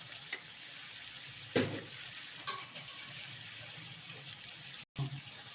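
Ground cumin paste and turmeric frying in a pan for a vegetarian taro and paneer curry, a steady soft sizzle with a few louder stirring scrapes and a brief gap near the end, no talking.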